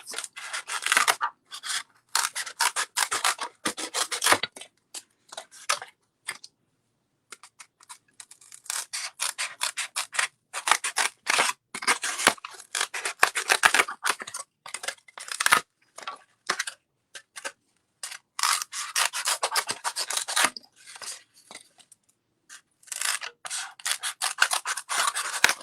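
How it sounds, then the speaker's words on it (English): Scissors snip through paper to cut out a box shape for hand-printed seed packets, close and crisp, in irregular bursts of rapid blade clicks and rubbing cuts with short pauses between. "I'm going to start by cutting out"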